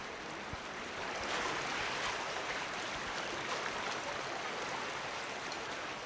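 An underground river flowing through a cave, heard as a steady broadband rush of running water that fills the space evenly from moderate distance, with no voices.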